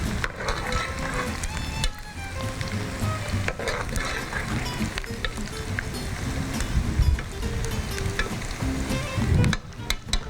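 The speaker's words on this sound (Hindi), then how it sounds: "इसमें लहसुन और प्याज मैंने एक साथ ही डाली है" Garlic and onion fry together in a pan for a moong dal dish, a loud, close sizzle with stirring scrapes and clatter throughout, ending in a sharper burst of hissing.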